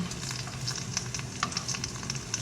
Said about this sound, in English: I do a fried egg